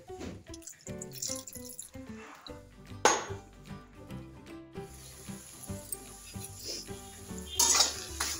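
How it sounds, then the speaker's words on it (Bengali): A spatula stirs tomato chutney in a cooking pan with a little water added, making clinks and scrapes against the metal with wet bubbling and dripping, near and moderately loud, with no talk. "মিশিয়ে এটাকে ভালো করে নাড়াবো। একটু ফুটে গেলে আমি নামিয়ে দেবো।"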